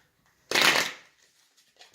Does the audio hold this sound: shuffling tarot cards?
yes